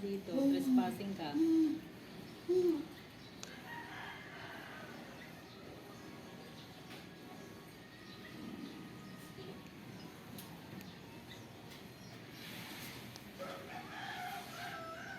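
A chicken gives a few short, bright crowing calls at the start, then fades to a quiet background of rustling with faint voices.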